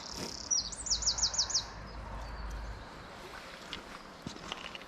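A short run of bright, quick bird chirps repeats about five times in a row, then fades, leaving a quiet outdoor background with faint low rumble, during trout fishing.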